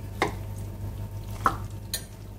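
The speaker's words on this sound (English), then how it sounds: "It's quite full, so just very carefully mix it all up." Vegetables and pasta mixed carefully in a full dish for a pasta bake, soft scraping with three distinct clinks of a utensil against the container, close and alone.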